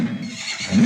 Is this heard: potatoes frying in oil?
no